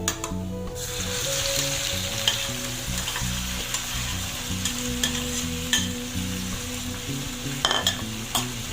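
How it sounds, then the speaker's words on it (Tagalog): Tomato fries in a pan with a continuous loud sizzle, plus occasional stirring clatter and scrapes near the end. "ilutuin na natin itong ating tomato"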